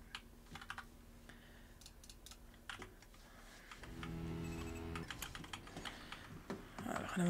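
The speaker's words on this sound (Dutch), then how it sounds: "Jullie horen mijn toetsenbord" Rapid, uneven clicking of a computer keyboard being typed on, near and clear, in bursts with brief pauses and a low steady tone humming underneath for part of the stretch.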